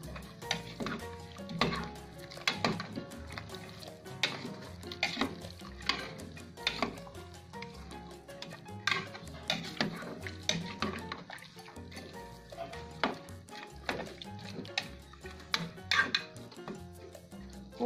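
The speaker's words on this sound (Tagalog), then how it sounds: "Haluin natin." A spoon stirring pork sinigang with string beans in a pot, soft repeated scraping and knocking in a steady rhythm, fairly quiet and close with faint simmering underneath.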